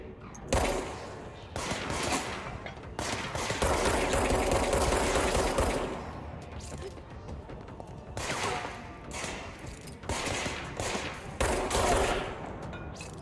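Bursts of gunfire ring out in the video game Control, several rapid automatic volleys separated by short pauses, loud and close throughout.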